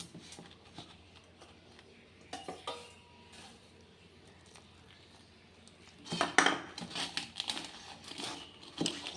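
Scraping and clinking of a utensil stirring batter in a pot, quiet at first, then louder bursts of rapid metallic scraping near the end.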